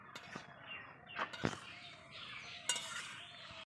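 Fried cumin added to a pot of bitter curry simmering in a village kitchen: a few clinks of a spoon against the pot and light stirring over a soft bubbling sizzle, close and fairly quiet.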